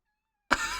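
A cat gives one short, sudden meow out of silence, close and fairly loud, and then a faint trailing hum follows.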